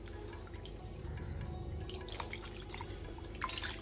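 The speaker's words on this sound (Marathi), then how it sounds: "आता तिसऱ्या पाण्यात मी हे स्वच्छ धुवून काढणार आहे।" Fish being rinsed by hand in a basin of water for a Koli-style repti fish dish, a steady close run of splashing, dripping and trickling with scattered louder sloshes and no talk.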